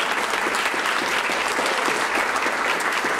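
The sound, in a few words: applause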